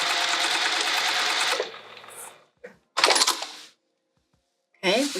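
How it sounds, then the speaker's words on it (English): A sewing machine runs in a steady, close whir while stitching a tote bag seam. It stops, then restarts for short bursts with brief pauses and faint handling between them. "Now you can turn it like this and keep sewing if you don't want to waste thread."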